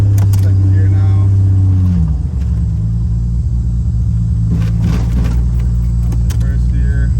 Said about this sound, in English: You're gonna hear more of the road noises.